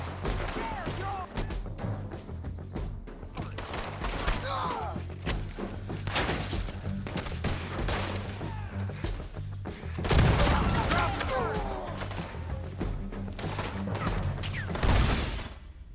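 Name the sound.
gunfire in the video game Red Dead Redemption 2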